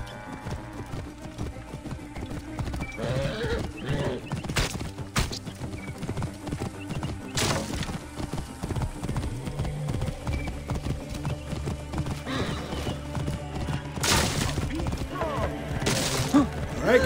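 Hooves clip-clop rapidly as a horse gallops in Assassin's Creed Origins, with occasional neighs and whinnies over busy game sound effects and background music.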